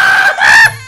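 A single loud, close crow or squawk from a fighting rooster in Minecraft, the cry breaking into two strained, tonal parts before it cuts off. No one talks.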